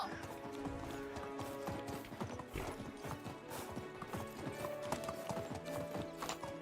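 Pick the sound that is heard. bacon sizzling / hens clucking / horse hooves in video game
horse hooves in video game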